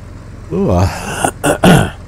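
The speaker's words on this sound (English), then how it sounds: "Man, I got to clear my throat." A man clears his throat close to the microphone, two or three short rasping bursts after a brief voiced sound.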